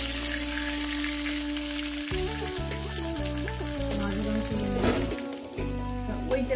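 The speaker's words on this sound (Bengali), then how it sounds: "মাছগুলো আমার ভাজা হয়ে গেছে।" Parshe fish sizzle in hot oil in a pan, a continuous crackling hiss with soft stirring, heard under steady background music.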